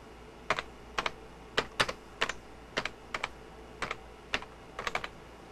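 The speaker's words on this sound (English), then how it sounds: "Let's type in William Shatner, okay?" Someone types on a 1997 computer keyboard, a close run of about a dozen crisp key clicks in uneven bursts, alone over a faint background hum.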